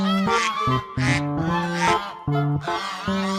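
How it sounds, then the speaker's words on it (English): A musk duck calls in a farmyard setting, a run of four loud, harmonic honking cries, each held about half a second with short gaps between, close and clear with no talk. "musk duck"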